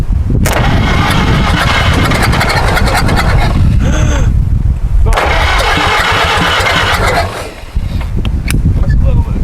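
An old barn-find tractor engine cranks loudly and catches in rough bursts, cutting out for a moment before cranking and sputtering again, close and harsh throughout.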